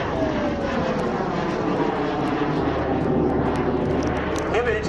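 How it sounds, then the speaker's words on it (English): A Rolls-Royce Avon-powered jet aircraft roars steadily overhead, a loud, continuous broadband engine rush with a low hum building beneath it throughout, heard alone without voices. "The Avon, a remarkable engine, the Rolls-Royce Avon."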